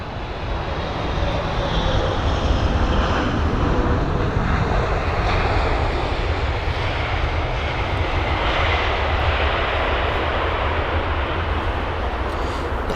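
Steady, loud roar of jet airliner engines at Heathrow airport, a broad continuous rumble from an aircraft on approach, with no talking over it.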